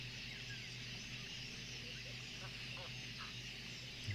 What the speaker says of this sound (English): Can hear the geese as well